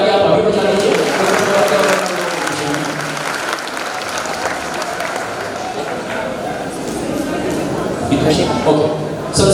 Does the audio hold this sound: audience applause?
yes